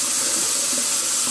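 Water runs from a bathroom sink tap in a steady, loud, close rush, an even spray with no breaks and no voices.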